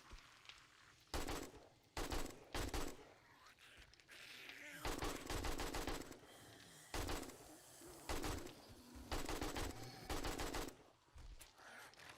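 Bursts of rapid automatic gunfire firing high power ammo in 7 Days to Die ring out close and loud, several volleys separated by short pauses, with ambient birdsong faintly behind.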